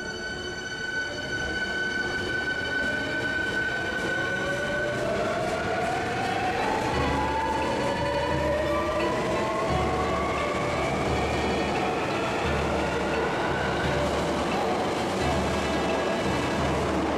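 An HO gauge model train, a Series 1300 set, runs steadily on a rental layout in a model shop in Nipponbashi, Osaka. The rail rumble stays close and continuous, with long squealing wheel tones rising and falling over the run.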